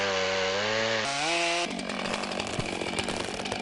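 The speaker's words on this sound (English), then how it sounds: "Let's go the other direction on the chainsaw" A chainsaw revs with a steady harmonic drone, its pitch shifting upward, then bites into a tree trunk with dense, rough sawing noise; loud and close, no talk.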